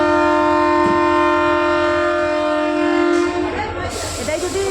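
Shivalik Express sounding a long, loud, steady horn at Taradevi station, followed by the rumble and clatter of the train moving off, very close.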